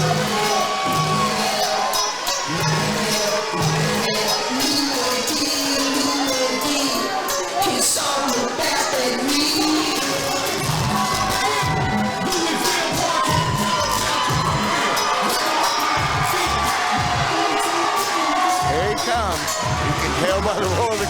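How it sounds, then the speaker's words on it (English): A boxing match crowd roaring and cheering continuously, a dense, loud wall of shouts and whoops that swells and persists throughout, with a commentator's voice mixed in. "Held by the roar of the crowd."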